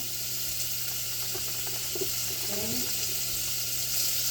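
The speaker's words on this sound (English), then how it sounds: "I'm going to add about a tablespoon of butter in here, and I'm going to let that melt down" About a tablespoon of butter melting in a pot on the stove gives a steady, close hiss of sizzling that runs unbroken, with a few faint clinks underneath.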